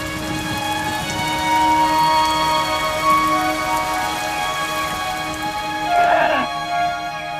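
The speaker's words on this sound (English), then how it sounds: "the rainy season descends on Copan" Steady rain falls during the rainy season at Copan, a dense, even hiss of drops on surfaces that persists throughout, with a faint tonal background hum beneath.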